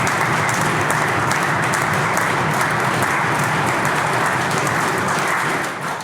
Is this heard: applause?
yes